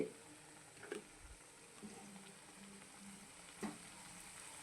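Bread bajji, battered bread slices, sizzle steadily in hot oil with a soft, even crackle, while a few clearer knocks mark the pieces being turned over to fry the other side.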